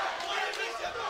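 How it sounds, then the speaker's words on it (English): Fight crowd at a Jose Delano vs Jonas Bilharinho bout, a dense wash of cheering and shouting voices, steady and loud across the brief moment. "We can hear the crowd just going crazy, rooting for Jonas, trying to get in his head."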